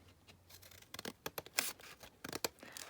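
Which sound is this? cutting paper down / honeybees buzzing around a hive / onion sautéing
cutting paper down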